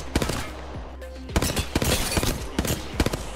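Rapid bursts of automatic gunfire in Apex Legends, loud and close, with clustered shots separated by brief pauses.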